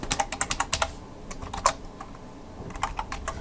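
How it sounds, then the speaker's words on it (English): Rapid bursts of typing on a computer keyboard while entering a curl command to install RVM on Linux, with quick clustered keystrokes, a pause, then a few more taps, close and moderately loud. "I don't know why I'm typing."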